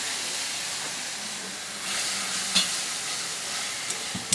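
Curry sizzling in a pan as turmeric and tomato go in, a steady close frying hiss with a few soft stirring scrapes and clinks; no talk.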